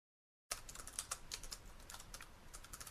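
Rapid, close clicking of keys on a computer keyboard, a busy irregular burst of typing that starts abruptly after a short silence and continues without speech.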